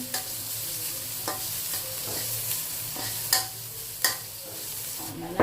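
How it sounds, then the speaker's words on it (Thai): Garlic stir-fried in a little oil for a chilli-salt prawn dish: a continuous bright sizzle with repeated scrapes and taps of a spatula on the pan, close and without speech. "ใส่กระเทียมลงไปผัดเลยค่ะ แครจะผัดกระเทียมก่อนนะคะ ผัดกระเทียมให้หอม"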